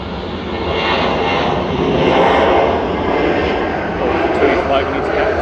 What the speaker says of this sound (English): It's an A350 1000. GVNVR coming in